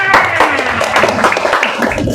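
Children clap their hands together in a quick, lively burst of rapid claps mixed with young voices, close and fairly loud.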